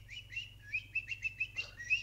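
A person whistles to imitate a bird, giving a quick series of high, bright chirps and warbles, close but quiet over a low steady background hum.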